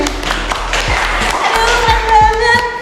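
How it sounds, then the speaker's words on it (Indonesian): Scattered hand clapping comes from behind the camera during an interview with student executive board leaders, with soft, irregular claps mixed with thuds under ongoing talk. "Tepuk tangan di belakang kamera."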